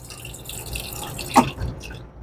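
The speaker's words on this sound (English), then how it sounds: "Then you have plain water." A Lancer dual-pour soda machine dispenses plain water in a short splash, close and brief against faint background hum.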